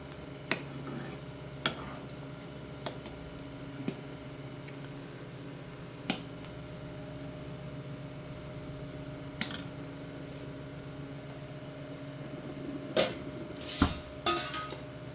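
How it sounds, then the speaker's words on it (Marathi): A lid is set on a pot of boiling kadhi made with homemade yogurt, giving faint, sparse metallic clinks and taps over a quiet background, with a few louder clatters near the end. "आता इथे मी झाकण ठेवून घेते"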